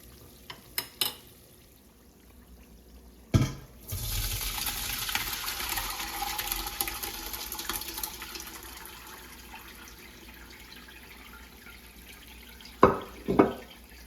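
Rendered lard is strained off, a steady pouring, trickling stream of liquid fat lasting several seconds, framed by a few sharp clunks of the pot and strainer at the start and end.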